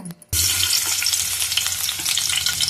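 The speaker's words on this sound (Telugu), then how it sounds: "ఉల్లిపాయలు నూనెలో వేసుకోవాలి." Sliced onions dropped into hot oil for a Guntur-style fish curry burst into a loud, close, continuous sizzle after a brief quiet moment, crackling steadily to the end.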